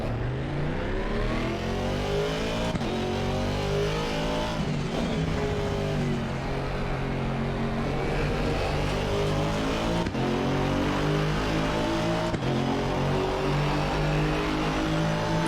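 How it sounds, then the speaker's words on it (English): A GT4 race car in Assetto Corsa Competizione roars steadily and loudly, its engine rising and falling through revs and gear changes. Sharp crackling backfires punctuate the lift-offs, and brief tire squeals mark the cornering. "nice backfire sounds"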